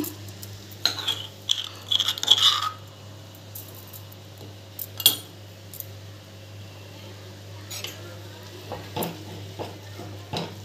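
A spoon stirs chili powder into food cooking in a pot, giving sparse scrapes and light metallic clinks. The clinks cluster early, then come as scattered taps over a quiet, steady background hum.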